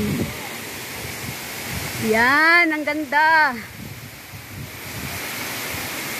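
Steady rushing roar of the Ng Tung Chai main waterfall fills the scene, with a voice speaking briefly over the constant water noise partway through.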